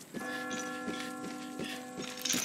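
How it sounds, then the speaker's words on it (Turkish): A bell in the video game Far Cry 5 rings in a slow, regular series of about six strikes, each one ringing on and overlapping the next, heard alone at moderate volume. "Çan sesini duyduk."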